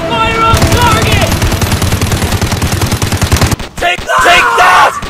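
Rapid bursts of automatic gunfire in a police chase video game, a dense rattling stream of shots that cuts off abruptly, followed by brief shouted game voice lines.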